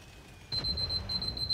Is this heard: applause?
no